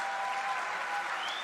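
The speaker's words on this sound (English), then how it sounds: "A big round of applause, people." A large crowd at an outdoor Save Soil event in Jordan applauds, producing a continuous, loud wash of clapping that stays level for the whole moment with no talk above it.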